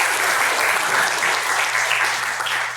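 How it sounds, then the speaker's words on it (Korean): Korean church congregation clapping for the altar flower arrangement, a loud, continuous burst of many hands that holds throughout with only faint murmurs beneath. "이것도 한번 박수 한번"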